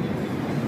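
An AC local train rumbles at a station, a brief steady low mechanical drone with no voices.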